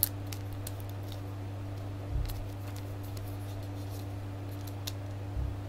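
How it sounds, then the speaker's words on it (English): Scissors snipping a plastic strap on DC Universe Classics action figure packaging, a few sharp close clicks against a steady low electrical hum, fairly quiet, with no talking. "If you cut the strap, then you can remove this little accessory right here."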